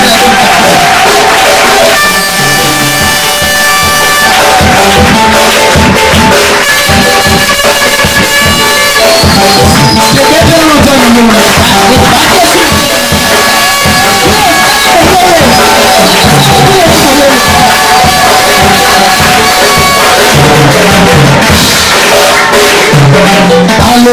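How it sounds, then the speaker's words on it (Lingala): A church congregation cheers and acclaims the Lord, a loud, continuous roar of shouts and whoops from a packed crowd over music, with voices calling out throughout. "Est-ce qu'on peut acclamer trop fort le Seigneur?"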